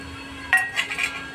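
Stone clinks and scrapes against a grinding slab, with black cumin, green chili and garlic being crushed, heard as a few short, close, quiet knocks.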